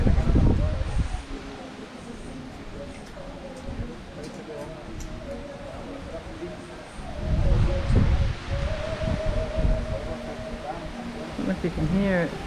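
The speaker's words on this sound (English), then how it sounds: "We just had a crazy gust of wind." Strong gusts of wind rush and rustle through loose debris and dust at an outdoor demolition site for a kitchen rebuild, surging loudly in waves while people talk over it.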